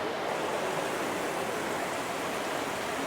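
Steady broadband rush of water flowing across an indoor infinity-pool-like water feature in Old Montreal, even and close, with no voices.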